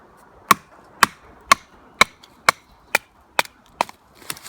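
A TOPS BOB knife is struck with a baton, about ten sharp, evenly spaced woody cracks ringing out close and loud, a little faster and softer toward the end.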